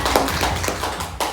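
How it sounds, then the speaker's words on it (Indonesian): Applause from teachers and parents in a classroom-style school presentation: several distinct, fairly loud hand claps in an irregular rhythm over a steady background hum. "Tepuk tangan Pak Bapak Ibu."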